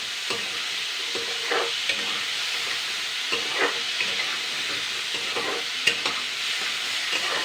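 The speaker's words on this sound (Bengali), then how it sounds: "এবার আমি নাড়াচাড়া করে নিচ্ছি" Green tomatoes fry with turmeric, salt and a spoonful of sugar in a pan, a steady sizzle broken by a few scraping stirs of the spoon.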